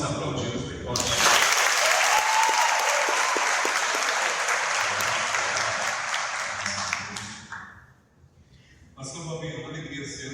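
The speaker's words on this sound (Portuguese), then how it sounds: "Vamos aplaudir-los bem forte." A church congregation applauds its leaders, a loud sustained burst of clapping that swells quickly, holds for several seconds, then fades out, followed by a voice speaking.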